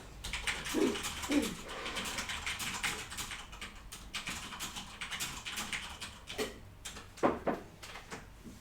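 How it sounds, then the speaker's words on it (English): Clicky typing on a computer keyboard in a quiet room, a steady run of soft keystrokes with a few louder taps, heard alone without talk. "What was that you were typing, Nate?"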